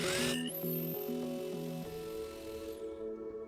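A power drill whirs in short repeated bursts, then runs steadily with a high whine before winding down; close and fairly loud.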